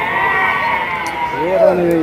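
Sheep bleat repeatedly at the Gudur sheep market, a flock of pregnant ewes held for sale, with wavering cries rising near the end over steady crowd chatter.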